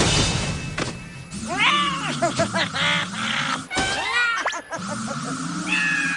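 An animated cartoon cat meows several times in drawn-out, wavering calls with short pauses between them, close and fairly loud over a soft background bed.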